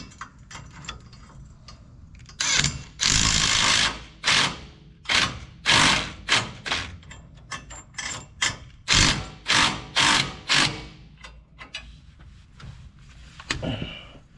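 Ratchet with a 16mm deep socket clicking in quick bursts while tightening a steering box brace on a diesel Dodge Ram, loud close rasping strokes separated by short pauses.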